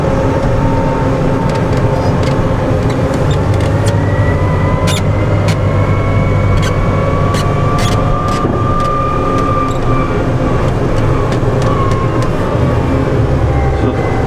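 Heavy snow removal trucks run along a town street at night, a loud continuous engine and road rumble with passing vehicle noise and scattered clanks and bangs throughout.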